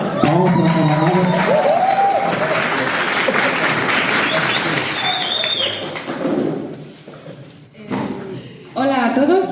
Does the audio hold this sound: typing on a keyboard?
no